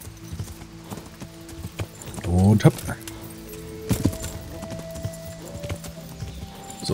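Horse hooves clip-clopping in the medieval video game Kingdom Come Deliverance: a few soft hoof clops and a brief snort or whinny, with someone talking over them.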